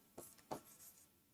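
Handwriting with a pen on paper, with two soft scratchy strokes and a few fainter ones, quiet and close in a still room.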